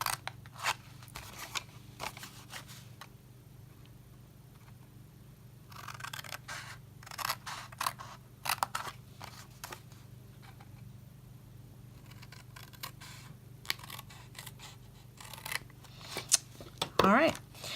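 Scissors snipping through the cardboard of a Ghirardelli chocolate box, cutting in to a scored fold line; short crisp crunching cuts come in scattered bursts, close and fairly quiet over a low steady room hum.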